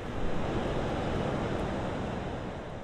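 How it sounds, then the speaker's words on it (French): Big surf breaks along the coast near Lisbon, a broad continuous wash of rushing water and wind noise swelling briefly then holding steady, distant-sounding and fairly quiet. "Il y a des vagues énormes, il y a beaucoup de surfeurs"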